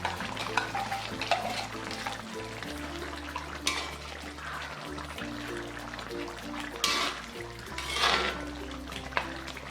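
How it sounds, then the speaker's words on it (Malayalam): Pepper chicken cooking in a pan as a paste is stirred in, a wet bubbling sizzle with intermittent scraping stirs over a low steady hum. "ഇനി ഈ പേസ്റ്റ് ഇതിലേക്ക് ഇട്ടിട്ട് ഇളക്കി കൊടുക്കാം"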